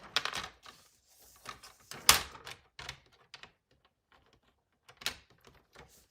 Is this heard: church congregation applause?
no